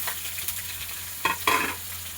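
Pumpkin tossed into a pan with tomato and green chilli for a vegetarian pumpkin, potato and pointed gourd curry, giving a steady close sizzle broken by a few sharp spatula scrapes, with no voices.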